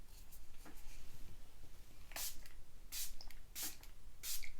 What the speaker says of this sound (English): I'm going to set this again with another spritz of the Milani Make It Last setting spray.